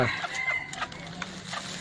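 A jungle fowl rooster's crow opens the clip, followed by scattered clucks from hens and faint clicks against a quiet background.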